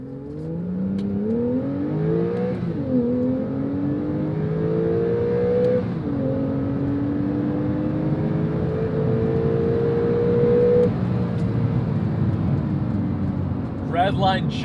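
A Porsche 911 engine revving through a full acceleration pull in manual mode toward about 7,500 RPM, the pitch climbing steadily with gear shifts, loud from inside the car with a voice talking over it.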